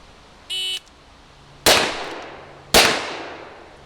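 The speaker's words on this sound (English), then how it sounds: "I'm going to come up and as fast as I can put one shot on each target." Two sharp, loud gunshots from a single-action revolver fired at targets, about a second apart, each with a ringing decay, preceded by a short electronic timer beep.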